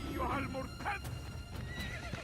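A horse neighs in the video game Assassin's Creed, a whinny amid hoof clatter and game noise, while someone talks over it in Portuguese.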